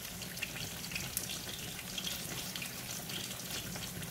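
Chicken fried steak fries in about half an inch of oil in a pan at 350 to 375 degrees, a soft, steady bubbling sizzle with small pops, heard close and alone.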